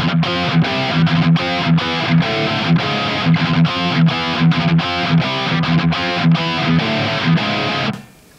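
A heavily distorted electric guitar plays a fast, chugging palm-muted metal riff, loud and close with tight rhythmic stops, then cuts off abruptly near the end.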